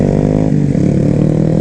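An original Honda Grom motorcycle rides by close and loud, its small single-cylinder engine droning steadily with a harmonic hum throughout.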